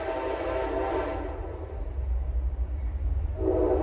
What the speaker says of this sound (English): Excuse me while the train goes through